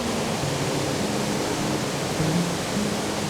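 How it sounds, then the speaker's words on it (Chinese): A waterfall roars inside a cave in Banff, Canada, as a dense, steady rush of falling water that fills the space evenly and never lets up. "大家走进山洞就可以拍到那个瀑布里面"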